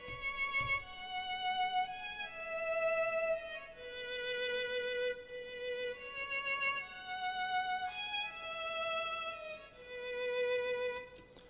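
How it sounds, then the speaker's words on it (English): Emotional violin melody with long bowed notes rises and falls in repeating phrases above a steady afrobeats beat, moderately quiet and continuous. "The next thing I added in the melody side was adding a violin"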